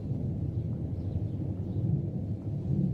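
Thunderstorm ambience played on a stream, a continuous deep low rumble of rolling thunder with a faint rain-like wash, steady and moderately loud with no voices.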